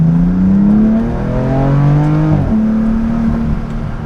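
A BMW F80 M3 pulls hard at full throttle, its engine droning loud and close as the pitch climbs steadily, breaks at an upshift midway through, and then rises again. No one talks.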